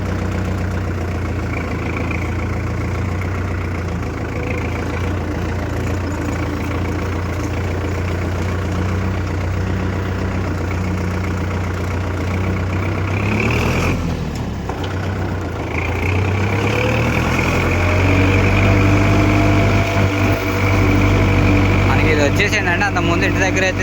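A tractor with a loose gear sensor runs with a steady, deep idling drone. The engine note shifts and wavers partway through before settling into a firmer rumble, with voices talking over it.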